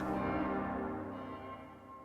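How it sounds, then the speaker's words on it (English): Distant church bells ring out in Zurich, their tones lingering and overlapping in a steady, reverberant wash with no voices present. "Zurich, distant church bells."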